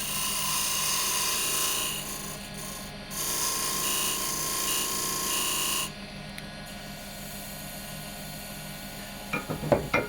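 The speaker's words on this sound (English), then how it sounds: "with a small skew, I'll just make this nice and flat" A small skew chisel shears a spinning walnut burl on a wood lathe, a steady high whirring hiss that drops in level midway, followed by a few light taps at the end.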